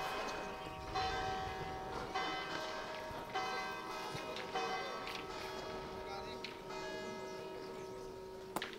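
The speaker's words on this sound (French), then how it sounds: "c'est parce que les cloches ont sonné" Church bells ring on and on at a pétanque tournament in Les Vans, France, a repeated, resonant peal with long ringing tones, heard at a moderate distance and fairly quiet.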